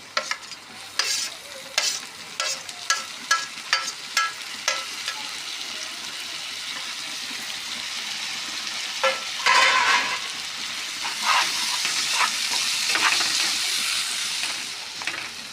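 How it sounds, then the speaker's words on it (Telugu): Finely chopped tomatoes hitting a hot pan for egg bun curry, opening with a series of spatula scrapes and stirring clatters, then a steady loud hissing sizzle that swells as they cook. "ఇప్పుడు కట్ చేసి పెట్టుకున్న టమాటాలు కూడా యాడ్ చేసుకుందాం"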